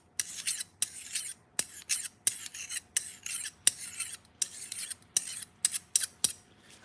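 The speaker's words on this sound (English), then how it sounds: "I'm just gonna use my pink stone to move it back if there is any damage before I start sharpening" A Global kitchen knife blade is rubbed across a pink sharpening stone in about fourteen quick, rasping strokes, each a short gritty scrape with brief gaps between them, close and clear with no talking.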